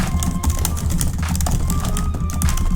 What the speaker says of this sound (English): I'm just going to type a whole bunch of mess.